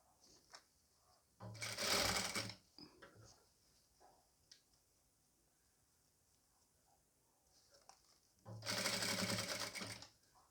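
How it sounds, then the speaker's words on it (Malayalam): A sewing machine stitches folded piping on a nighty in two loud, close bursts of rapid whirring, separated by a quiet stretch with faint handling sounds. "ഇതേപോലെ മടക്കി തയ്ച്ചു കൊടുക്കാം കേട്ടോ ചെറിയ വീതിയിൽ ആയിട്ടൊന്ന് പൈപ്പിംഗ് ചെയ്ത് കൊടുക്കാം"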